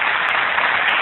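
Sustained applause and cheering from a big crowd, an even wash of clapping that holds steady throughout, heard through a narrow, muffled broadcast-quality channel with no voices over it.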